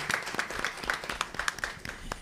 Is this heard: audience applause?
yes